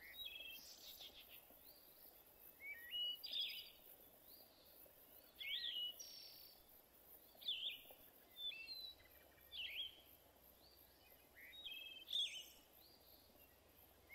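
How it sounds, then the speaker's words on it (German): Birds chirp in the survival video game Survival: Lost Way, with bright repeated tweets every couple of seconds over a steady soft hiss of ambient insect-like background, all fairly faint. "Dann höre ich die Vögel noch zwitschern."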